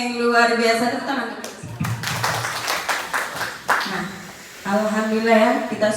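An audience in a teachers' training session claps together in a short burst of applause, set between stretches of a voice talking, fairly near and moderately loud.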